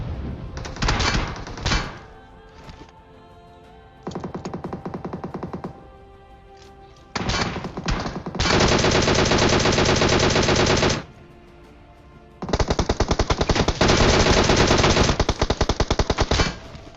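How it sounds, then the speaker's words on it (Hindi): Rapid automatic gunfire from four enemy players in PUBG Mobile, loud close bursts of machine-gun fire, some brief and some sustained for several seconds, separated by short lulls, with no talk. "चारों मेरे पे फायर करने लगे"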